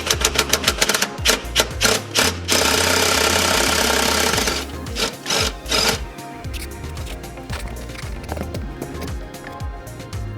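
A rapid power tool rattles away at a transmission bolt on a 1999-2004 Mustang during a TR3650 clutch job, loud and close, in fast bursts that give way to a steadier whir and then quieter mechanical clatter.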